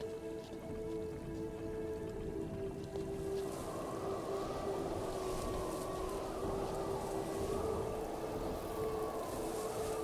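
Eerie wind spirit ambience in the game Myst IV: Revelation, a steady airy whoosh with sustained tonal moaning drones that swell and grow fuller partway through, no speech.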